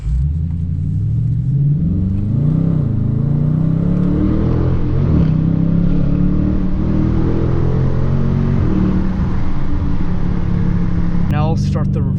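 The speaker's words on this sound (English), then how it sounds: "let me show you how the engine and exhaust sounds really quick" A 2020 Dodge Challenger R/T with a naturally aspirated V8 rumbles loudly up close, its exhaust rising and falling through several revs over a deep steady idle, ending in a brief sharp burst.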